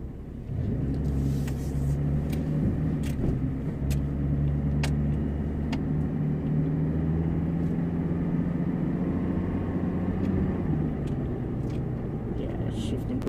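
A 2002 Chevrolet TrailBlazer on a test drive, its engine a steady loud low rumble from inside the cabin, with road noise holding throughout and a few faint clicks and knocks.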